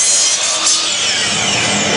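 Hand saw cutting a mitre in wood for a handmade pen box, a loud, close, continuous rasping stroke that fills the whole moment, with no talking.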